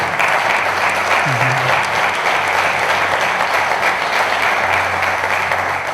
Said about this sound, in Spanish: por favor, un aplauso para Jesús Ortega